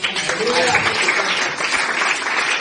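A church congregation applauds during a Spanish-language sermon, giving dense, continuous clapping with voices mixed into the crowd sound.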